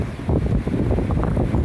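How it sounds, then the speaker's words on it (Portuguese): Sea waves at the beach on Ilha Comprida, a continuous low rushing surf mixed with wind buffeting the microphone, loud and close with no voices. "Escutem só o som do mar."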